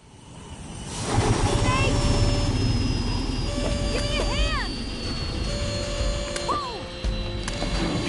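A propeller airplane engine in Metal Gear Solid 3 drones steadily and loudly for several seconds after a quiet start, mixed with game sound effects including rising and falling whistling tones.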